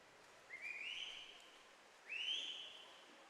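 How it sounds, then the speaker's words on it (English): A coach gives two rising, sliding whistles at an indoor swim meet during a distance race, each about a second long and fairly faint against quiet pool ambience, with no talk. "The patented Brian whistle is in full effect."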